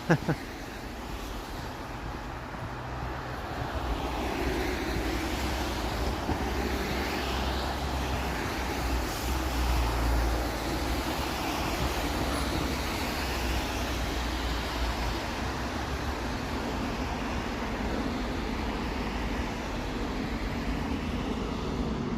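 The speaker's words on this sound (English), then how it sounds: "You hear a jet flying over." A jet aircraft passes high over a busy Toronto street near Yonge and Eglinton, its low, distant roar sustained beneath steady traffic and city noise.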